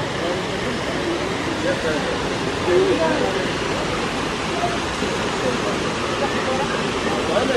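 The lower part of Duden Falls roars as a steady, broad wash of falling water, close and constant throughout with no pauses.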